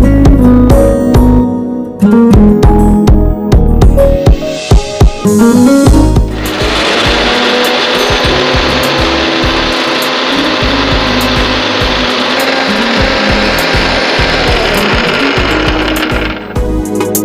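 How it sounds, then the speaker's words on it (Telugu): A kitchen mixer grinder blending tomato garlic chutney with salt and coriander powder, starting with short pulsed bursts, then settling into a loud, continuous, steady whir that runs for about ten seconds before cutting off. "దీన్ని మిక్సీ పట్టేసుకో."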